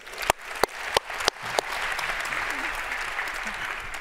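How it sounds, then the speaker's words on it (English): A conference audience breaks into applause, opening with a few loud, distinct claps and then settling into a steady, dense patter of many hands that carries to the end. "Let's give a hand of applause for that."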